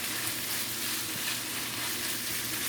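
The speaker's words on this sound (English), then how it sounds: "See how it's sauteing." Chopped onion sautéing in a pan for Jamaican ackee and saltfish, a steady, dense sizzle and fry that holds at an even level throughout, close and alone with no talk.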